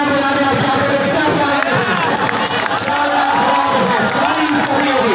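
A crowd cheers and applauds at an All India basketball tournament match, a dense, loud, continuous roar of claps and shouts with a commentator talking over it.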